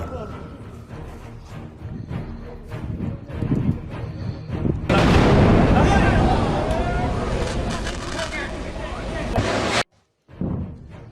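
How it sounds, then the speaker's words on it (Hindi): Heavy gunfire and artillery at the Chamin border crossing between Pakistan and Afghanistan: a loud, dense roar of blasts fills the middle of the clip, then cuts out abruptly, with distant rumbling before it. "पाकिस्तानी सेना भारी फायरिंग कर रही है।"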